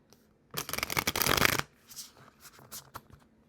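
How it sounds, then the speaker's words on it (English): A deck of tarot cards shuffled by hand, a dense riffling burst of papery flutter for about a second, then softer scattered taps and slides as the cards settle, quiet and close with no talk. "just going to sit here and shuffle while he's doing his thing."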